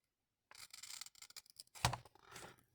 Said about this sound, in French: je vais prendre mes ciseaux de précision